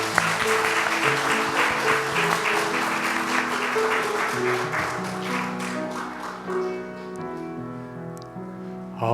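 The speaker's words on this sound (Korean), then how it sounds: "우리 박수로 격려하겠습니다" A church congregation at a Korean Presbyterian Sunday service claps in a sustained round, with piano accompaniment rising beneath and carrying on as the clapping fades out.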